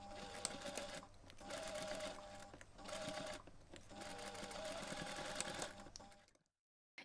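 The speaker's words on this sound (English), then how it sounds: "take this to the machine and simply baste your pockets in place" A sewing machine bastes pen pockets onto bag fabric in several steady whirring runs separated by brief pauses, close and fairly loud, ending in silence.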